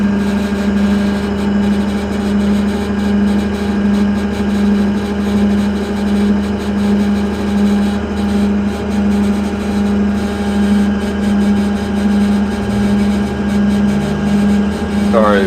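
A Beast 4680 stump grinder engine runs at steady high revs, a loud continuous droning hum with slight pulsing throughout and a brief rising whine near the end.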